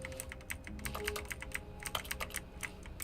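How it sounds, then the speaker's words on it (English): Touching objects in The Stanley Parable produces rapid keyboard-like typing clicks, a dense irregular patter of keystrokes at moderate volume with no talk. "Why everything I touch just sounds like I'm typing?"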